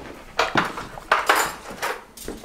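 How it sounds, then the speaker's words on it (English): Clean dishes and silverware being put away in an RV kitchen, with a few distinct clinks and clatters of plates and cutlery close by, spaced irregularly across a quiet background. "putting the clean dishes away"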